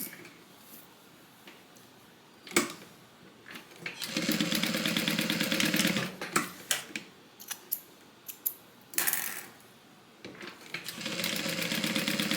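A sewing machine tacks down the top of a fabric bag in a few short, fast-stitching bursts, with pauses, clicks and fabric handling between them.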